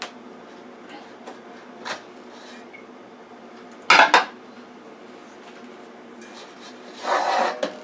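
A metal pan is lifted out and set onto a plate while a peach cobbler is made, giving a few light clinks and scrapes, a loud clattering knock in the middle, and a rougher scrape near the end.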